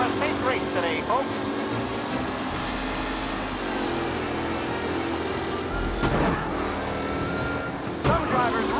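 Race cars roaring around a track in Mafia: Definitive Edition, a steady dense engine drone with revving and cars passing by, loud and continuous, with shouting voices and game commentary mixed in.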